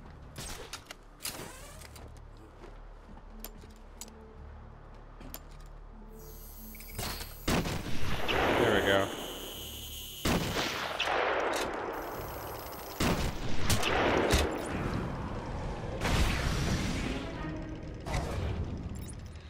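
Enemy gunfire in the video game Batman: Arkham Asylum, scattered sharp shots at first, then louder rattling bursts and crashing impacts building through the second half.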